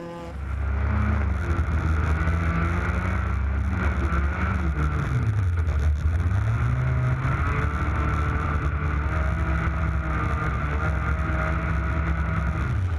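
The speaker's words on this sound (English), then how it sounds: "Here we can see how Unai, the Mirandés-born driver, enjoyed driving on ice" Race cars in an ice racing event drive and skid on a frozen track, engines droning steadily and loudly with rising and falling pitch throughout, with no talk.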